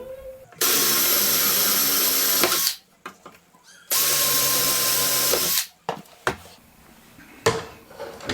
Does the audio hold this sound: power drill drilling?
yes